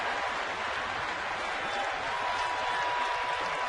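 A baseball stadium crowd cheers on a pitch during a San Diego at San Francisco game, a dense, steady wash of distant roaring noise that holds without a break.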